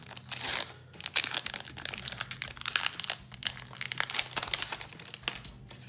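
A Pokémon XY trading card booster pack being torn open and handled, quiet close crinkling and crackling of foil wrapper in irregular bursts, with no talk.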